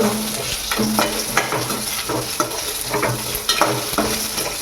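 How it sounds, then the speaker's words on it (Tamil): Green chillies and other ingredients for drumstick-leaf chutney sizzle and fry in a pan, with steady crackling and repeated scrapes of a stirring spoon close by. "இது நல்லா பாதி ஃப்ரை ஆகிற வரைக்கும் நம்ம வதக்கலாம்."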